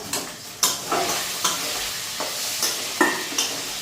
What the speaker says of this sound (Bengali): মাছের মাথাগুলি এদিকে দেখো ভাজা হয়ে গেছে গা